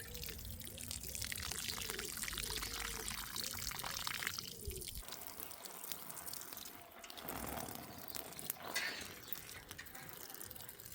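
Water pours and trickles steadily from a can into a plant pot of compost, a gentle splashing stream that continues for several seconds, quiet and close, with no talking.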